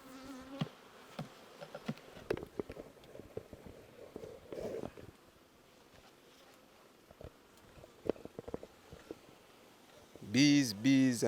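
Honey bees buzz around an open hive full of capped honey, a steady insect drone under scattered clicks and handling noises, with a louder close burst near the end.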